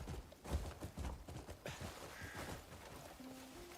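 A horse galloping in the video game Crimson Desert, with quick, uneven hoofbeats thudding close by under a steady background bed.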